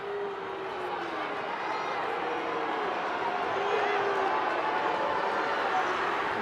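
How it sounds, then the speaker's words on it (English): A crowd at a women's Six Nations rugby match between England and Wales roars steadily as an attacking move builds, a dense, continuous wash of cheering that swells slightly toward the end. "You can hear just the crowd egging this on"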